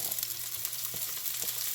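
Onion bulb and tomato fry in a pan with a steady, close hiss of sizzling and a few soft stirring bumps, no talk.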